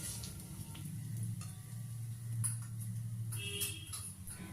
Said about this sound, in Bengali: আদা বাটা দিয়ে খুব ভালোভাবে খুন্তির সাহায্যে নেড়ে চেড়ে ভেজে নিতে হবে